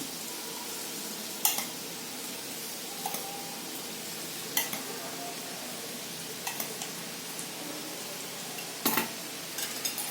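Leftover spiced besan batter dropped into hot oil as salty boondi, a constant close crackling sizzle punctuated by a few sharp metallic clinks of a spoon against the pan.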